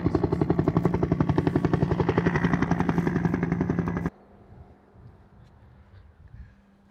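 Small drone flying out over the sea near the German Batterie Oldenburg at Calais, France, with a loud, close, rapidly pulsing rotor buzz for about four seconds that cuts off abruptly, leaving faint wind and low rumble.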